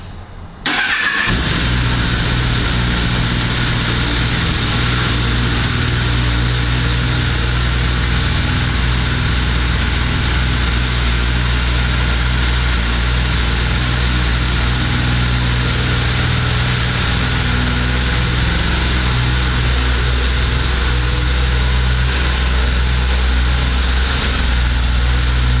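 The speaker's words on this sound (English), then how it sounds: "let's go ahead and fire it up and listen how it sounds" A 2021 Kawasaki ZX-10R motorcycle engine cranks and fires after a brief moment, then settles into a loud, steady idle that runs on close by for the rest of the time.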